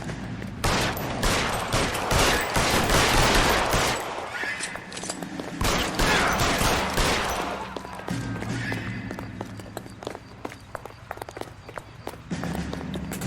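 Gunfire in the L.A. Noire video game, a loud volley of shots that fades into scattered thuds and running footsteps, with a rattle of further shots near the end.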